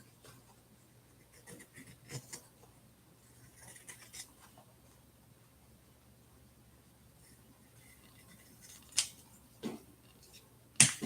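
Scissors snip along the edge of a junk journal page, quiet scattered cuts and paper rustles followed by a few sharper, louder snips toward the end, with no talking.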